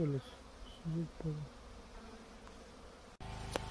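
Honey bees at a hive treated for varroa mites with oxalic acid sublimation: a few short, close buzzing bursts of flying bees over a low background hum, followed by an abrupt switch to a steadier tonal drone at the end.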